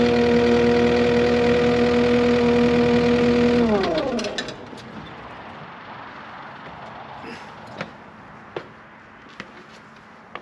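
A skid steer engine idles with a steady harmonic drone, then shuts down after about four seconds and winds to a stop, leaving quiet with a few sharp clicks and taps.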